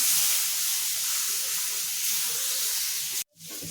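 Mango modak filling stirred in a pan gives a steady broadband hiss and soft scraping for about three seconds, then a sudden drop to near silence and a quieter return.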